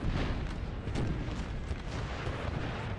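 Artillery fire in Napoleon Total War during a large 4v4 Battle of Aspern-Essling, a dense continuous barrage of rumbling booms and crackling blasts layered over one another at steady loudness.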